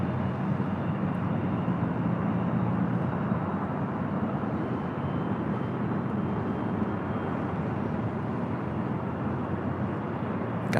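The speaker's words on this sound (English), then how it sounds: "Got the Singapore 777 now heading up here for a north side departure." Singapore Airlines Boeing 777 departing LAX for a north side takeoff, a steady, broad jet engine roar that holds at even loudness with no talking.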